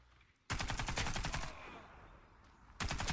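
XM8 LMG light machine gun in Warface firing two loud, rapid sustained bursts, the first about a second long, separated by a brief pause with faint echoing tail.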